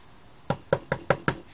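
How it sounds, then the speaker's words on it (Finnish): Five sharp knocks on a door or wall in a dark setting, evenly spaced about a fifth of a second apart, close and distinct against near silence. "Kuka tuon koputuksen teki?"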